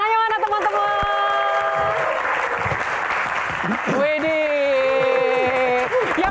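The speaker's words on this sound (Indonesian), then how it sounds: "Tepuk tangannya mana teman-teman?" A studio audience at a stand-up comedy Q&A show claps and cheers under strong tonal music and a host's voice, the applause staying as a busy wash behind the louder sounds.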